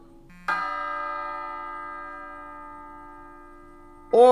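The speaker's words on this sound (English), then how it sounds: "And the church bell." Church bell sound from an iPhone bell app: a single loud strike rings with a long, slowly fading hum, then a second strike begins just before the end, with no talking over it.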